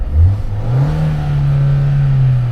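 A Ford Fusion engine, running with its check engine light on after losing coolant, revs up once and then settles into a steady, loud, close hum with no talking.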